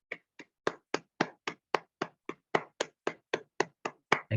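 An audience at a business invitation session claps for the company's founder, sharp claps landing together in a steady, even rhythm, about four per second, distinct and moderately loud.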